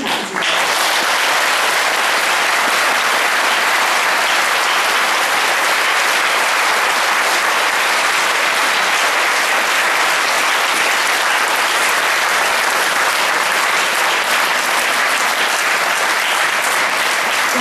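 Sustained audience applause fills an indoor protest rally in the Japanese Diet building, a dense, steady wash of clapping from many hands that holds loud and unbroken throughout.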